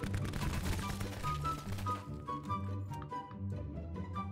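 Faint, muffled bursts of gunfire in a shooter video game sit behind a steady musical drone, tapering off after the first couple of seconds.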